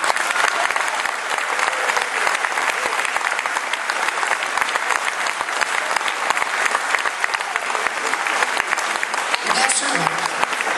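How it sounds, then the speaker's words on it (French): A crowd gives sustained, dense applause for a singing teacher being introduced with an orchestra, steady and loud for about ten seconds with a faint voice near the end. "Je vous en applaudis très très fort, s'il vous plaît"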